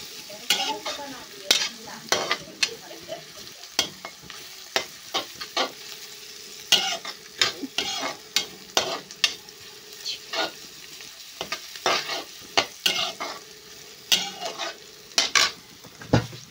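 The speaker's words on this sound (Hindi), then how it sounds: "मैं भूज रही हूँ चावल, क्योंकि मुझे चावल कच्चा बहुत अच्छा लगता है।" Rice roasting in a pan while being stirred: frequent scraping and clinking strokes in an irregular rhythm over a soft continuous sizzle, close and fairly loud.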